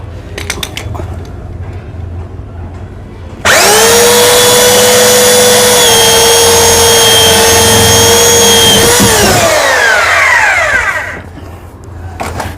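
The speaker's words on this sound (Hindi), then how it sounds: "इस हैमर मशीन में हमने ड्रिल चेक को लगा दिया है और ड्रिल चेक में हमने ये 32 नंबर की बिट को फिट कर लिया।" Hammer drill fitted with a 32 bit boring a hole for a 1-inch CPVC tank nipple, a loud steady high-pitched whine running about six seconds, then winding down.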